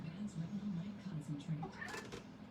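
An indoor cat gives a short run of soft, close meows while someone talks over it at a similar volume.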